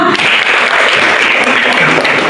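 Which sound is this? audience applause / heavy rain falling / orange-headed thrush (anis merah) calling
audience applause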